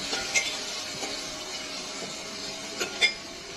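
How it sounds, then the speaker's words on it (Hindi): Ginger garlic paste fries with chicken in a pot for Pakistani chicken korma, giving a soft, steady sizzle with a few light clinks of a spoon against the pan; no one speaks. "ये अदरक लहसुन का पेस्ट 1 चम्मच भर के हम इसमें ऐड कर लेते हैं। इसे थोड़ी देर भून देते हैं।"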